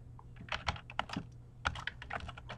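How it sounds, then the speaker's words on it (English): Quiet, close keystrokes on a computer keyboard, a quick irregular burst of clicks with short pauses between, over a low steady hum. "I'm going to type in Mr."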